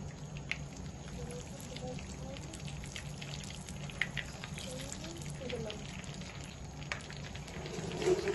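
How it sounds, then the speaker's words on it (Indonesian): Battered shrimp frying in hot oil, a steady dense crackle and sizzle with scattered pops running throughout at close range, with a faint murmur of background sound underneath. "Ini sudah mulai proses goreng."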